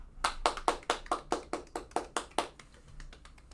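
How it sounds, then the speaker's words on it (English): A single person claps about a dozen times in a quick, even rhythm, sharp and close, then the claps fade into quieter, scattered taps. "round of applause to the staff at Disney Plus"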